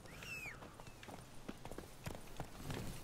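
Horse hooves clip-clop at a steady trot in The Witcher 3: Blood and Wine video game, faint rhythmic hoofbeats with a brief game whistle-like sound near the start.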